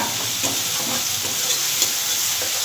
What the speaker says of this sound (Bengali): মশলাটা একটু ভাজা হলেই শিমটা আমি দিয়ে দেব